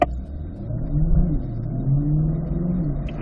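A car accelerates steadily toward 40 mph on a driving course for a braking drill, its mid-pitched engine rising in a smooth close rev over a few seconds, heard alone.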